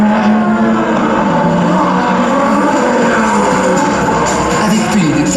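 Racing engines on the Trophée Andros ice track in Grandvalira, Andorra, drone loudly and steadily throughout with a dense, sustained roar, with crowd noise mixed into the background.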